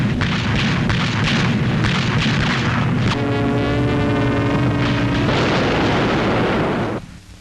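Anti-aircraft guns crew-served by Home Guard, ATS and American gunners fire against a German air attack, a dense run of heavy booming blasts and rumbling reports, with a tonal drone swelling through the middle before the barrage fades.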